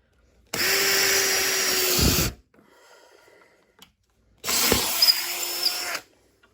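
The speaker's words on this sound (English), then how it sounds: "And then I'm going to drill through the crack." Two bursts of a power drill boring into a cracked wooden walking staff, each whining steadily for about one to two seconds, with a quiet pause between them; close and loud, no talking.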